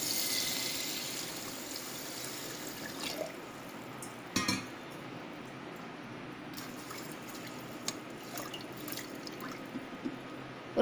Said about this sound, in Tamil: இப்போ இது வேகிற அளவுக்கு நம்ம தண்ணி சேர்த்துக்கலாம்.